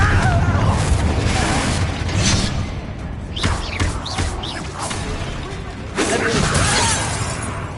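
A Confringo fire spell blasts in the Hogwarts Legacy video game, a dense roaring burst with crackling debris and whooshes over a loud continuous game soundscape, followed by another surge of noise near the end.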